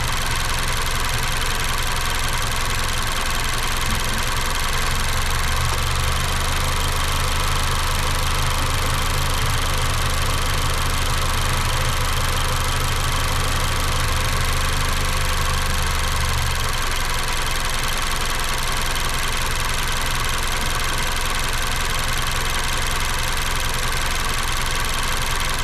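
A 2019 Mazda CX-5 with a high idle fault idles steadily while its purge valve is actuated, a continuous close engine drone with a low hum that drops away about two-thirds of the way through.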